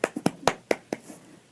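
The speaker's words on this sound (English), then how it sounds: "Dad laughed and applauded." A single person's hands clap about six times in a quick, slightly uneven burst, sharp and close, then trail off into quiet.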